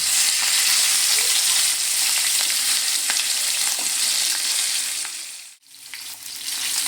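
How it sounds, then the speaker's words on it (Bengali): Pieces of katla (rohu-like carp) fish shallow-frying in hot oil in a pan, a loud continuous sizzle with crackling pops and occasional stirring or turning, briefly dropping out for a moment before resuming. "মাছটা কিন্তু এপিট ওপিট উল্টে আমি ভেজে নিচ্ছি।"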